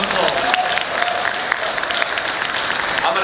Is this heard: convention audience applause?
yes